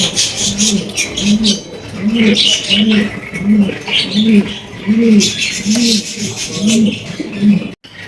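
Black exhibition pigeons at a sale, cooing in a steady repeated rhythm of about a dozen low, close coos, with someone talking over them and some rustling in the background.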